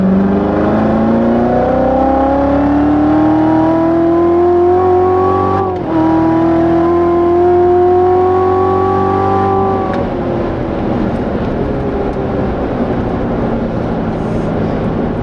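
A performance car accelerating hard around the Spring Mountain Motorsports track at a driving school, its engine loud and close, pitch climbing steadily through a gear, a brief shift, another rise, then easing off into a rougher drone.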